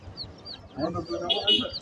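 A large-breed chicken on a poultry farm gives a brief burst of clucking close by, overlapping with people talking.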